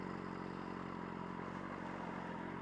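A motorcycle is ridden in the evening, its engine droning steadily and loudly with rough, close rumble and mechanical clatter, and no talk.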